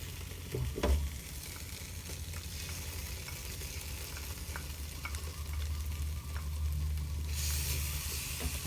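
Sausage frying in a pan with ketchup added: a steady close sizzle and hiss with a few stirring knocks early on, the frying swelling louder and brighter near the end.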